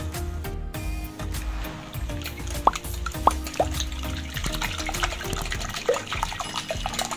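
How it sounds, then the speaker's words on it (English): Indomie instant noodles go into a pot of boiling water, giving scattered drips, plops and bubbling over a low steady burble, close up and with no talk. "Our water had boiled, so I've just added in my indomie."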